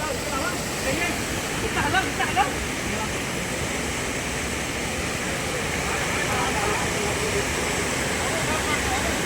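Water rushes steadily over a small waterfall in a rocky Konkan stream during monsoon fishing, a continuous broadband roar heard close by with voices talking over it.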